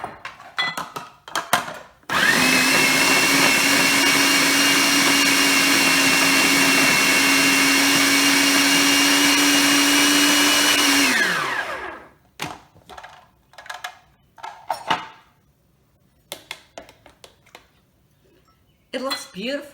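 A kitchen blender whirs loudly for about ten seconds while blending mango and almond milk sorbet, then spins down, with clinks of utensils and dishes and someone talking before and after.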